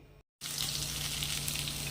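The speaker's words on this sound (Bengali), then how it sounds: "দেখো আমার ডিম সেদ্ধটা গরম করছি" A halved boiled egg reheating in a pan on a home kitchen stove gives a quiet, steady sizzle and frying crackle, briefly cut to silence at the start, then continuing evenly without speech.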